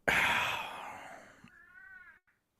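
A cat meows indoors, a loud drawn-out cry followed by a shorter, quieter harmonic call that trails off into silence.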